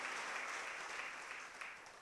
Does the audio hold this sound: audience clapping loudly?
yes